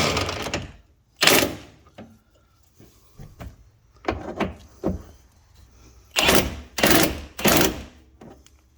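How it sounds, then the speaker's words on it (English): An impact wrench fires several short bursts, loud and close, as it snugs down the battery bolts on a 2014 Silverado 1500 with a 4.3L V6, with quiet pauses between the pulls. "Then we'll just snug them up with the impact."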